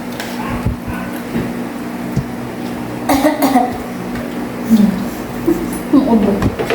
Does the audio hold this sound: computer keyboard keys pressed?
no